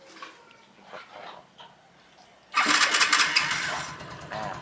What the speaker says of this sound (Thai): กดเราเลยมาสตาร์ทที่รีโมทให้ดูนะครับ